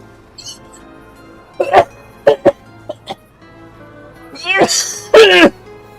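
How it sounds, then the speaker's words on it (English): After a bout of hard laughter, a person lets out several sharp coughs, then two longer, harsher strained coughs, close and loud against a quiet background. "I laughed so hard I coughed, and I coughed so hard I almost passed out"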